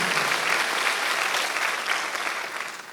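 Churchgoers at a Korean Sunday worship service break into applause, a bright, crowded rush of clapping that stays loud and steady, tapering a little toward the close.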